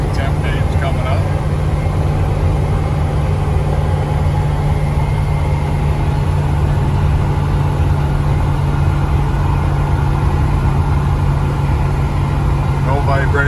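A 1972 Chevrolet K10 pickup truck cruising down the road, heard as a steady low engine drone and road rumble that holds an even level throughout.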